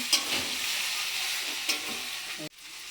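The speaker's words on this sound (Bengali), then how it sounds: "বেশি ভাজবো না আবার মশলা দিয়ে আমি আবার কষাবো ভাজবো" Spices frying and being sautéed in a pan, a continuous close sizzle with a couple of sharp stirring scrapes, cutting off abruptly near the end; no talking.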